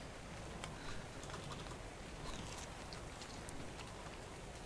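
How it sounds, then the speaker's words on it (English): Rain falls in the ARK Survival Evolved video game, heard as a faint, steady patter of drops without letup and no talk over it. "I said it's raining"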